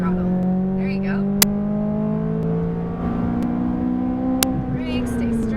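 A McLaren 570S on a race track holds a steady, close engine drone under acceleration, its pitch rising slowly with a few short clicks. An instructor talks over it throughout.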